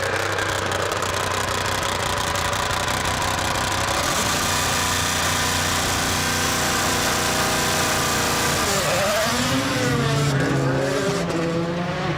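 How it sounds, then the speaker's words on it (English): Rally car engine rumbling hard off the start line of the Forest Rally Stage, a loud continuous roar with rising and falling revs and gear changes, heard alone without any talking. "The rumble of the car."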